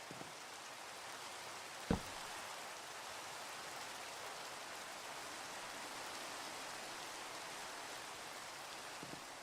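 Steady rainfall in the blocky sandbox game Minecraft, a continuous soft hiss at moderate level with a single brief tap near the start and no talking.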